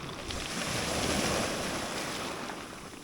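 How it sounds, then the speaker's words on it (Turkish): Black Sea waves wash steadily onto a pebble beach at Arhavi in a continuous rushing roar, with some wind noise mixed in. "Dalgalı bir Karadeniz her zamanki gibi."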